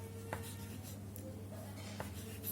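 Faint scratching of a pen or pencil on paper while numbers are written out by hand during a square root calculation, soft strokes over a quiet steady hum.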